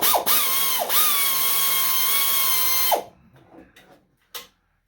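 A corded power tool whirs in sustained bursts while backing screws off a Tecumseh 5HP snowblower's blower cover, loud and close, with a short rising start, a steady run, then a drop-off and a few faint clicks.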